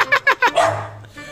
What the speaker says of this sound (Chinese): 我们今天晃二哈